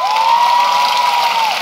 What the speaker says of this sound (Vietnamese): Vỗ tay nồng nhiệt cho phần trình diễn vừa kết thúc.